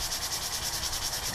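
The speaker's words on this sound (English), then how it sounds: "I'm using the 150 grit sandpaper" A clear coat being hand sanded with 150 grit sandpaper, heard as a quick rhythmic scratchy rubbing of repeated back-and-forth strokes, close and fairly quiet.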